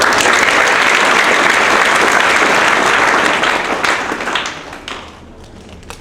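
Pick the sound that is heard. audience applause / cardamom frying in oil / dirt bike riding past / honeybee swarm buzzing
audience applause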